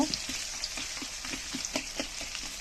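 Green chili, onion and garlic fry in oil with cinnamon and bay leaf, a close, steady crackling sizzle broken by soft, regular stirring strokes, with no voices.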